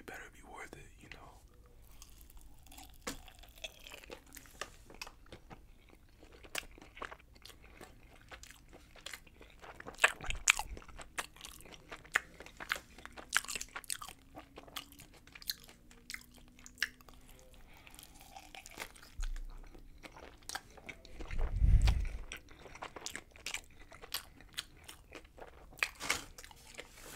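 Close, crisp crunching and soft chewing bites on a Five Guys cheeseburger with grilled onions, tomato and pickles, irregular and intimate, with a louder burst of munching near the end.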